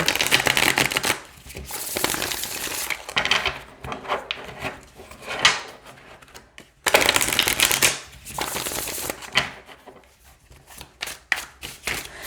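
A deck of tarot cards being riffle-shuffled twice, each burst of fluttering followed by tapping and squaring of the deck, close and clear.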